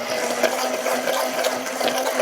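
An immersion blender whirs steadily through vegan mayonnaise, a close and loud motor whine with a constant pitch that runs unbroken and alone.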